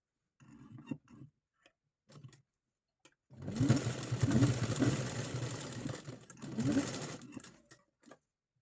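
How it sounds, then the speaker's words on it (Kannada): A sewing machine stitches fabric in rapid whirring runs, short bursts at first and then a longer steady stretch, loud and close with no talking. "ಮಷಿನಲ್ಲೊಂದು ಸ್ಟಿಚ್ ಹಾಕ್ಕೊಳ್ತಾ ಇದ್ದೇನೆ."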